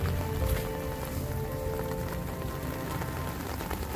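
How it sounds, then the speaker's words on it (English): Rainwater runs off a lawn into rain gardens and a floodway, a steady broadband wash of flowing water and pattering rain that holds an even, close level throughout with no talking. "We can see the water going into there from the lawn and all around in here, flowing down here"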